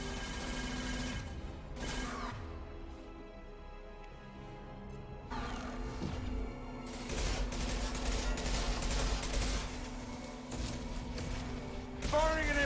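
Impact shot gunfire in the Mass Effect 2 video game, rapid bursts of weapon fire and crashes layered over a steady combat soundtrack, loud throughout with a few sharper hits.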